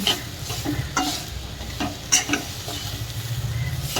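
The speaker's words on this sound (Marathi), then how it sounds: "हे सारण हलकंसं गरम करून घेऊ" Traditional Junnar-style Maharashtrian maswadi filling sautés in a pan with a steady sizzle, while a spatula scrapes and taps in repeated stirring strokes throughout. No one speaks.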